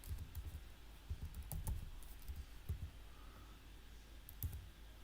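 Short bursts of key clicks on a computer keyboard as a file name is typed, quiet and close, in uneven clusters separated by brief pauses.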